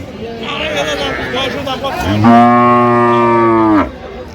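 Cows mooing at a busy cattle market where cows and calves are sold, with a long, loud low moo rising clearly over the chatter of people talking nearby.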